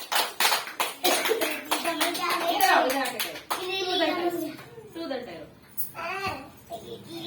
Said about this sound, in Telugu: అఫన్ క్లాప్స్ కొట్టండి.